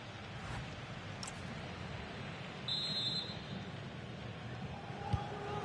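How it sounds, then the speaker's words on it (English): A referee's whistle in a Atletico Madrid versus Barcelona football simulation game sounds as one short, thin, faint blast over steady crowd noise. "So the referee's whistle as the action is restarted."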